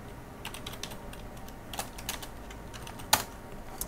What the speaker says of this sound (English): I should type here print